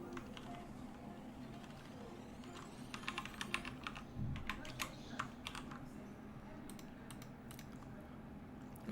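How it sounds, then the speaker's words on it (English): Someone types on a computer keyboard while coding Kotlin puzzle solutions, a quick run of clicking keystrokes that swells in the middle over a low, constant room hum. "what am I typing?"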